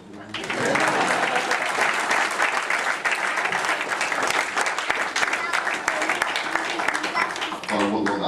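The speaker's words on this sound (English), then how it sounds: "A little round of applause." Sustained, dense applause from a wedding reception crowd after the groom's speech, loud and steady for several seconds before fading out.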